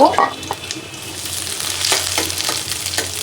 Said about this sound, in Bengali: তো এখন আমি বাগার দেওয়ার জন্য তেল দিয়ে দিয়েছি, দিয়ে দিলাম পেঁয়াজ